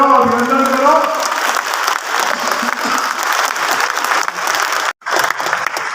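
Loud, sustained applause from a large audience at a Sen community gathering in Raipur, with a dense clatter of clapping that briefly cuts out near the end and resumes; a voice speaks over the start.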